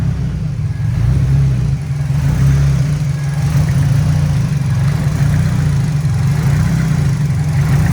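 A turbo Nissan Silvia S14 race car engine idles steadily with a deep, rumbling low-end throb, loud and close, with no voices over it.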